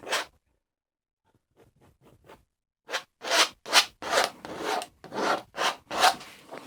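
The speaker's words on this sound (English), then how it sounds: "Just scraping that down in there." Paint being scraped down on a landscape painting, a series of short, raspy strokes that start faint and sparse, then turn louder and steadier in close, rhythmic scrapes with no voice.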